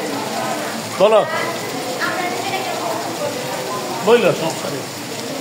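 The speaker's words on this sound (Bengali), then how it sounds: "এই যে বৃষ্টি পড়তেছে।" Steady rain patters outdoors as a constant hiss, with people talking and singing over it in two short louder bursts.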